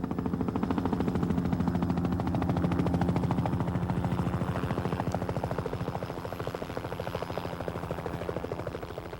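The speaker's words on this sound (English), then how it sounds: "While choppers doused trees with retardant" Firefighting helicopters dousing a burning Yellowstone forest with retardant produce a steady, loud rotor chop with a rapid pulsing beat that holds throughout and fades slightly toward the end.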